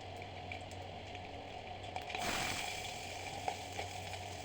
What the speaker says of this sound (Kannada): ಎಲ್ಲ ಬ್ರೌನ್ ಕಲರ್ ಆಗೋವರೆಗೂ ಸ್ವಲ್ಪ ಫ್ರೈ ಮಾಡ್ಕೊಂಬಿಡಿ.